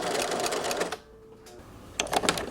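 A sewing machine runs in quick bursts, stitching backwards and forwards at a short stitch length on a bolero collar, with a brief pause in the middle before the rapid clatter resumes.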